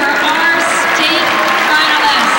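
Dense, steady applause and crowd noise fill Boardwalk Hall for wrestlers on the podium at the state individual wrestling championship, loud and continuous throughout.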